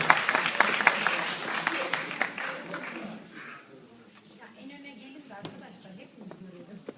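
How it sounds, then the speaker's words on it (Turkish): An audience at a poetry event applauds to welcome a poet to the stage. The loud clapping fades after a few seconds, and someone speaks into a microphone over it. "Sevgili Fuat Bahçeci'ye Alkışlarınızla sahne davet ediyoruz"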